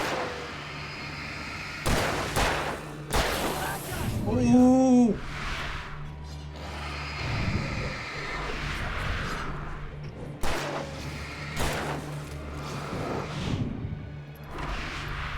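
Scattered gunshots and booming impacts in the Alan Wake video game, spaced a second or two apart amid whooshes and low rumbling ambience, with a brief voiced exclamation in between.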